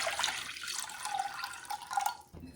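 Water streams and splashes into a pot as four cups are measured out for cooking cornmeal mush, a steady close pouring hiss that cuts off abruptly near the end.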